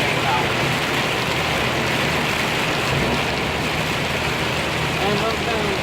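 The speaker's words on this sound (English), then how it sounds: "it's getting rain now" Rain pours steadily onto a car driving on a road, a dense, loud, unbroken hiss and patter that fills the whole stretch with no pauses.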